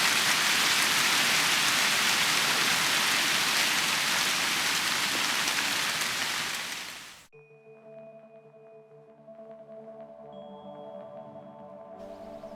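Heavy rain patters densely on a forest canopy under a cedar tree, a loud, even hiss for several seconds before cutting away to a quiet, tonal passage.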